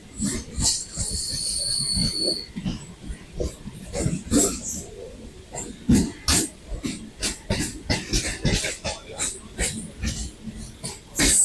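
A suburban local train on the Sealdah–Barrackpore line clatters over the rails in a rhythmic series of heavy thumps and rattles, fairly close. A brief high squeal comes early, with occasional voices and a cough in the carriage.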